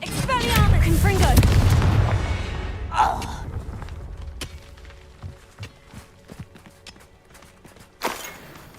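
A loud fiery blast from the Confringo spell in the Hogwarts Legacy video game, a heavy booming burst at the start that fades into scattered impacts, footsteps and smaller hits, with a later sharp crack; a voice shouts over the opening.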